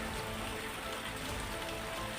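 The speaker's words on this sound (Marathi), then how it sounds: "नागपुरात संततधार आहे" Continuous heavy monsoon rain in Nagpur makes a steady, even hiss of rain pattering on surfaces throughout, with no talking.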